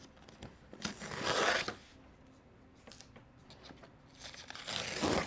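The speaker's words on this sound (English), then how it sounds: "And we're going to take our tape off." Tape being peeled off embroidered fabric panels for an in-the-hoop rivet handbag: close ripping and crinkling pulls in three bursts with quiet gaps, no talk.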